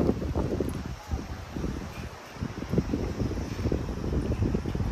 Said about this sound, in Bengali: প্রচন্ড হাওয়া উঠছে।